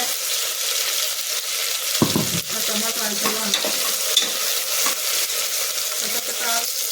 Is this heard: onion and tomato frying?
yes